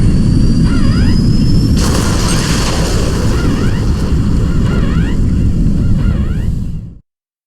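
An aircraft taking off on its first test flight in the fighting game Guilty Gear Strive, a loud, continuous roaring rumble with a rising whine that swells partway through and cuts off abruptly at the end.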